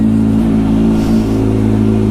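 A Kawasaki Z motorcycle fitted with an Arrow Pro Race titanium slip-on exhaust gives a loud, close, continuous engine note that holds a steady, deep rumble throughout.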